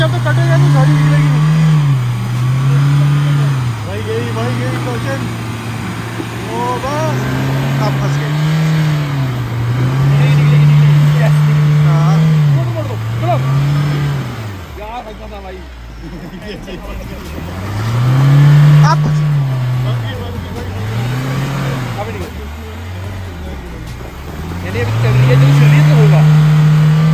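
Engine of a Mahindra Thar revving hard in repeated rising and falling bursts during an off-road self recovery, loud and close, with voices talking throughout.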